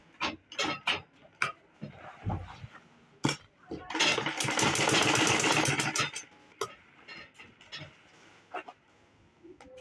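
A sewing machine top stitches a tote bag in a short whirring run of a couple of seconds, surrounded by scattered clicks and taps of handling fabric and tools, with a voice speaking at moments.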